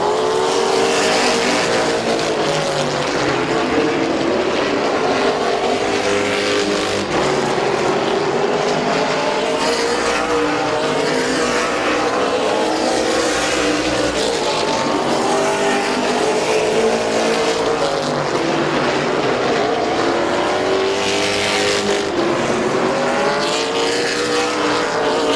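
Race cars roar continuously around the oval at Midvale Speedway in the closing laps of a 2016 event, engines rising and falling in pitch as they pass, with occasional tire squeal, loud and steady throughout.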